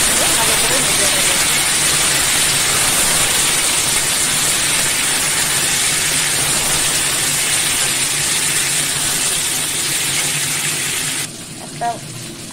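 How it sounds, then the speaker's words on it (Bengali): Eggplant, potato and chopped onion fry in a covered pan, giving a loud, steady hiss and sizzle that runs without a break and then cuts off abruptly near the end. "ঢাকনা দিয়ে ভালো করে ভেজে নেব।"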